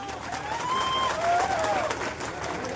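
Crowd applause at an outdoor tribal rally, steady clapping from many hands mixed with crowd murmur, moderately loud throughout the short stretch.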